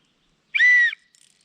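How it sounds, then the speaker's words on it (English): A whistle blown softly gives one short, steady, clear tone lasting under half a second, then a few faint ticks in the quiet that follows. "So, there's the whistle."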